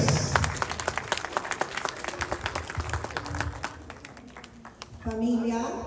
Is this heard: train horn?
no